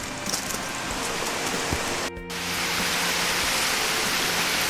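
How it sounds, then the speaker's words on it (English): Cascades along Little Hillaby Creek in Alabama pour over rocks in a steady, full rushing hiss, close and continuous, with a brief clunk partway through. "there's cascades all along the creek as it falls over these rocks"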